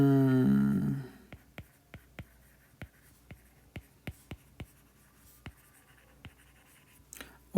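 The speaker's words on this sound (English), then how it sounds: "let me just write" Chalk or marker tapping and scratching on a board during a physics lecture on Newton's laws: a brief voice at the start, then a steady run of short, faint, evenly spaced ticks and strokes, close by in a quiet room.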